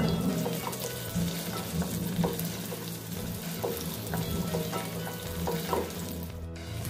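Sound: green chilies frying with onions in a pan

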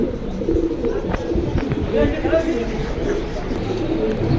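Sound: pigeons cooing at a pigeon market

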